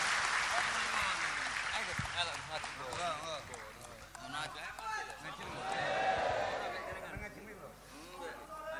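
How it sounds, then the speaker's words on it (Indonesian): Audience applause fills a religious study gathering, a steady crowd clapping that swells and fades across the whole stretch, with voices and murmurs mixed in. "Tepuk tangan, tepuk tangan."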